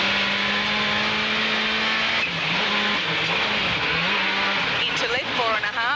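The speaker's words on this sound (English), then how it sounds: "The second Toyota Corolla was driven by Australian champion Neil Bates, but a sticking throttle would trouble him all day" Rally-spec Toyota Corolla engine on a gravel rally stage, suffering a sticking throttle, droning steadily with shifting revs and gear changes, loud and close, with a commentator's voice running over it.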